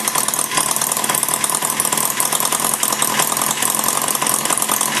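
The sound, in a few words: Maier TA4 engine running after tune-up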